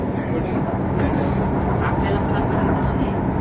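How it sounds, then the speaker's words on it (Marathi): A metro train starts and rumbles steadily close by, a broad mechanical drone with faint higher whines, loud and continuous without any clear pauses. "या मेट्रोचा प्रवास बघा तो स्टार्ट होतो"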